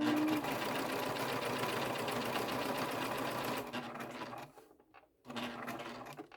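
A sewing machine runs steadily while stitching a fabric wristlet, then pauses briefly and starts again for a short back stitch, a close, even mechanical whirr heard alone.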